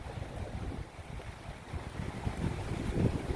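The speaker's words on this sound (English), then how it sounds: "Still very windy." Strong wind gusts steadily against the microphone on the Lake Michigan shore near a bridge, a continuous low rumble that swells louder toward the end, with no voices.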